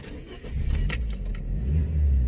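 A car engine fitted with a shiny new exhaust runs close by, a low rumble building in strength, with a brief clatter like jangling keys or metal near the start.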